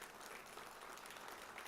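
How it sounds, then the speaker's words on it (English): Audience applause for alumni at an anniversary panel event, a brief continuous wash of many hands clapping, quiet and distant, with no voices over it. "please round of applause"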